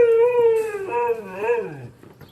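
A dog howls up close in one long, wavering cry lasting about two seconds, its pitch rising and falling before fading out, with no talking over it.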